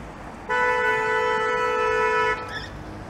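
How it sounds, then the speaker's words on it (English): A single long car horn blast in Toronto street traffic, at a driver running a red light, steady and fairly close, held for about two seconds before cutting off, then a brief faint chirp. "That driver just sailed through the red light and deservedly got honked at."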